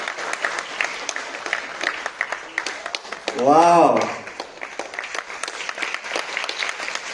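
An audience at a stage event with the young actors of Malikapuram applauds with a dense, steady patter of clapping, and one voice briefly exclaims over it.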